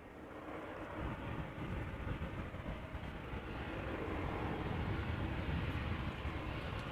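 Jet airliners at Amsterdam Schiphol Airport near the runway threshold, heard as a steady broad roar of engines that holds loud and continuous throughout, swelling slightly toward the end.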